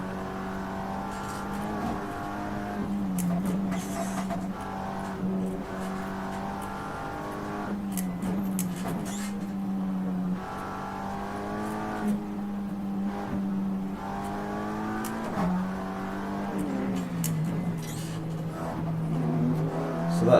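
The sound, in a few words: leading BMW race car on the Nordschleife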